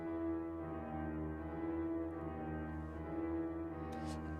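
Fully wet reverb from a grand piano hall preset on a piano, only the reverberated signal heard: a sustained, smeared wash of tones swelling where the notes change, soft and continuous.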